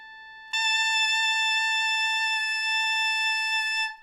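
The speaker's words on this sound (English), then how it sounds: "First, I'm going to find concert A." A saxophone mouthpiece alone sounds a single sustained concert A, a bright, reedy tone that starts abruptly and holds steady and loud for over three seconds before stopping.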